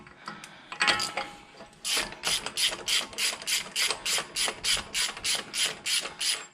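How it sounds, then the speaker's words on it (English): A ratchet clicks rapidly while backing off the axle nut on a 2001 Toyota Sienna, a close, bright run of evenly spaced ratcheting bursts after a few initial handling clicks. "So I'm just gonna take the axle nut completely off now."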